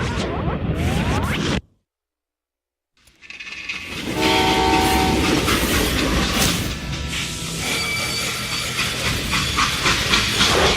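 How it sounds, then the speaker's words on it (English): Freight train in the Western shooter game Call of Juarez Gunslinger, loud steam hiss and rolling rail clatter with whistle-like tones, cut by a short silent gap before the rumble returns and builds. "They hopped a freight train,"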